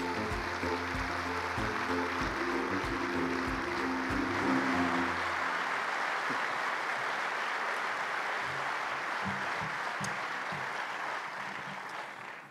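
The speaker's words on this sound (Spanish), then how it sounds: "Recibamos, pues, con un aplauso a Isabel Coixet." An audience at the Donostia Award gala in San Sebastián applauds at length, dense steady clapping first layered with sustained music, then continuing alone before tapering off at the close.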